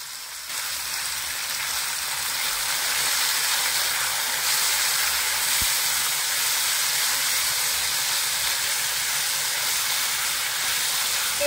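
Diced tomatoes, dry chillies and curry leaves frying in hot oil in a pan, giving a continuous close hissing sizzle that holds steady with no voices.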